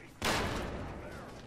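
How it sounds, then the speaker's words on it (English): A single loud, sharp blast goes off in Fallout 3, with a sudden attack followed by a long rumbling decay that fits a grenade explosion, close and alone with no talking. "Did that other grenade blow up?"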